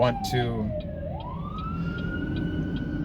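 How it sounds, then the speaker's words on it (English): Fire truck sirens wail past with a sweeping, rising and falling tone and periodic horn-like blasts, moderately loud and steady, following a brief burst of speech at the start. "Here comes the fire trucks."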